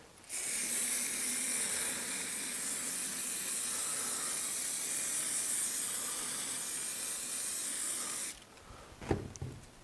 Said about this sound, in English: we're going to spray evenly over the surface